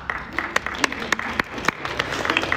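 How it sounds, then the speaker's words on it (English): Audience applause at a science panel at TwitchCon Las Vegas, a crowd clapping in a steady patter with a voice speaking over it. "Show of applause."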